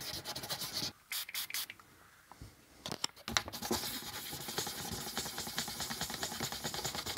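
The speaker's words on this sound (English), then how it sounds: "2000 grit, I found that's a good compromise for polishing clear acrylic" Close, steady scratchy rubbing of 2000 grit sandpaper worked back and forth over scratched clear acrylic plastic, a brief pause and a few short strokes early on, then continuous rapid sanding.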